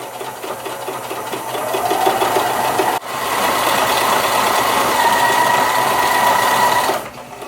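A sewing machine running a stretch stitch along the edge of fabric for a T-shirt dress, loud and close, with a fast steady whir broken by a brief pause before continuing and then stopping.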